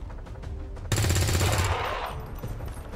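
Gunfire from soldiers in the game XCOM 2: War of the Chosen, a dense burst of rapid shots erupting loudly after a quiet start, then tailing off into a lingering rumble.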